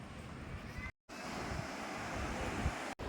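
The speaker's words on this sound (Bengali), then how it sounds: "আওয়াজ দেখো শুধু বড় বড় ঢেউ আসছে দেখো" Steady roar of surf breaking on a sea beach near Henry Island, Fraserganj, broad and continuous with gusts of wind buffeting the microphone, broken by a brief dropout.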